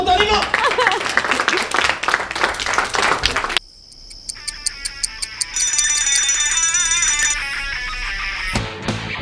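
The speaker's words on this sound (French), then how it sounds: "Allez, on l'applaudit, viens spontanément!" A hotel audience at a magic show applauds a volunteer for about three and a half seconds, then the clapping cuts off and a bright electronic jingle and chiming tones follow.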